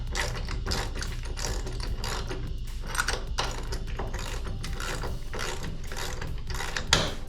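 Socket ratchet cranking a long bolt into a boat trailer's retractable tie-down strap mount, a continuous fast clicking of the pawl, close and loud, with no voices.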